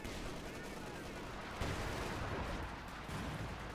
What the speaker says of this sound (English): Second shot misses from the anti-tank, and Panther 4 moving up